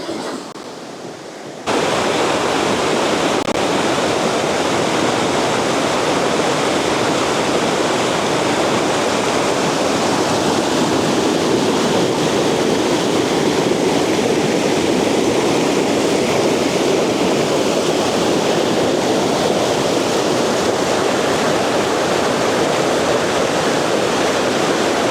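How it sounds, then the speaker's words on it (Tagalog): Strong ocean waves crash at a seaside campsite, a loud, steady roar of surf that fills the whole stretch without any talking. "Lakas ng alon."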